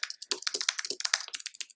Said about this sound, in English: I'm typing out all the answer and the response from the prompt up above.